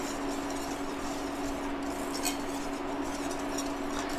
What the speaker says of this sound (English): Sugar, the cornstarch, and the salt. All together, and we're just going to whisk those together really quick.